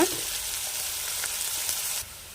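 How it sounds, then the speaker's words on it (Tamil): Steady bright sizzling of onions deep frying in hot oil, close and continuous, with a slight clatter before it quiets near the end. "வெங்காயத்தை இந்த ஆயிலே நல்லா டீப்பாக ஃப்ரை பண்ணி எடுத்து வச்சுக்கலாம்."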